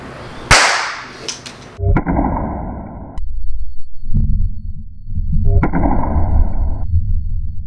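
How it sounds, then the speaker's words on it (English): A sharp, loud pop bursts out early as a small overcharged capacitor explodes, then a steady electrical buzz hums in two stretches with a brief quiet gap between. "These small ones actually pop much louder."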